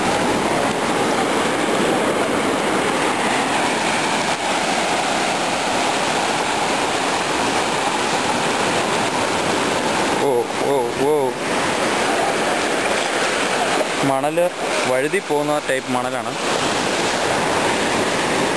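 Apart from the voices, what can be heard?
sea waves on Thalikulam beach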